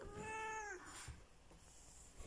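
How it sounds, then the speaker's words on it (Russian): An elderly cat, twenty years old, gives one clear, close meow with a rising and falling tone. Quieter room noise follows it, and a faint rustle comes near the end. "Сколько можно мяукать?"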